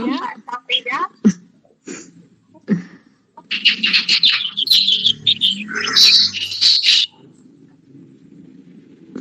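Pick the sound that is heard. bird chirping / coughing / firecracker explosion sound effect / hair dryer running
bird chirping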